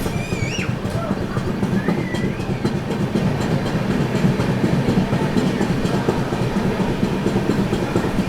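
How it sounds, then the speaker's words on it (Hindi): Grand Trunk Express passenger train pulling out of Betul railway station, a steady loud rumble of wheels and coaches with rhythmic clatter on the rails, brief squealing tones early on, heard from on board without talk. "अपनी जीटी एक्सप्रेस का डिपार्चर हो चुका है बैतूल रेलवे स्टेशन से।"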